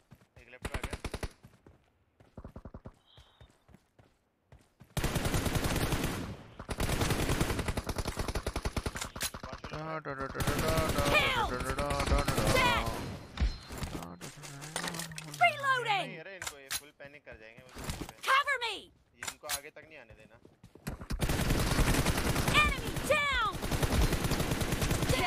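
Rapid automatic gunfire rattles in a BGMI 2v2 team deathmatch, with loud sustained bursts broken by short pauses while players talk excitedly over the shooting.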